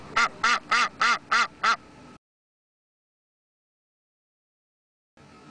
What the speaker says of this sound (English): the Spinosaurus making quacking noises the whole time